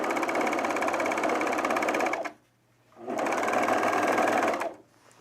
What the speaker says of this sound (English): After I sew my other sleeve on